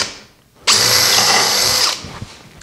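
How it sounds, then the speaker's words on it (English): A power drill boring dowel holes into wood for a raised-panel bedroom dresser end: one loud, close, steady whine lasting about a second, starting abruptly after a quiet moment and then winding down. "Now, I'm going to drill 2 and 5, which I think is adequate."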